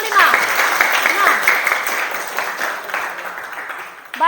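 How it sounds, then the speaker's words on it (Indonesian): Applause for a student group in a classroom lesson, a burst of clapping from a small group of students that rises quickly and tapers off, mixed with a teacher's voice and chatter. "tepuk tangan untuk kelompok 5"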